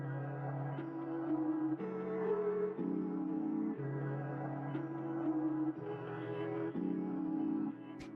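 A music sample loop used for a trap beat: a soft, steady passage of low sustained tones that change pitch every second or so in a repeating pattern, under faint mid and high texture, quiet and even throughout.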